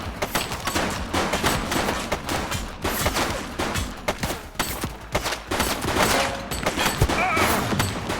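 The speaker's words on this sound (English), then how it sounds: "Shots fired!" Rapid gunfire in the police video game The Precinct, dense volleys and automatic bursts crackling continuously, loud and near, with occasional thuds mixed in.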